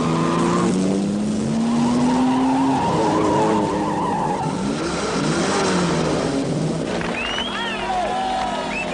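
A rally car at a presidential event pulls away hard, engine revving loudly and tires skidding and squealing, close and continuous, with crowd noise underneath.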